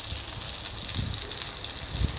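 Chana dal fritters (bora) fry in mustard oil, making a loud, dense, continuous sizzle and crackle with a few soft low bumps underneath and no voices.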